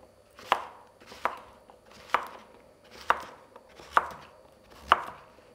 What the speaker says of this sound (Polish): W tym czasie, jak mi się tutaj to przydusi, to pokroję cukinię.